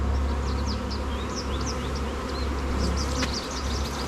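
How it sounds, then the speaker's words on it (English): A strong colony of honeybees buzzes around their hive on a mountain farm, a constant close droning hum with individual bees zipping past now and then, and no talking. "This was a really strong hive of bees."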